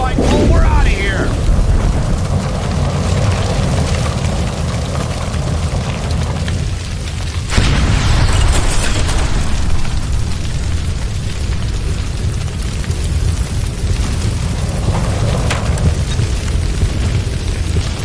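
Gas line explosion in the video game L.A. Noire: a loud broadband boom near the start, a second burst about halfway through, then sustained rumbling roar and debris noise under urgent shouting voices.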